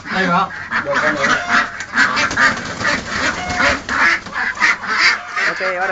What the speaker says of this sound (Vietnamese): Ok, bắt được vịt rồi.